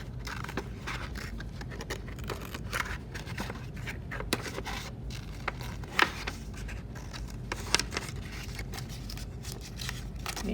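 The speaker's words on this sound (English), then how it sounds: "I'm gonna take my scissors and I'm gonna safely cut out these different shapes." Scissors snip paper shapes in quick irregular cuts, each a crisp close snip with faint paper rustle and scraping between, quiet and steady throughout.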